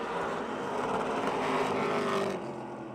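Late model race cars on the Motordrome Speedway track, a steady engine roar that swells slightly as cars pass and then fades, heard from a distance without talk.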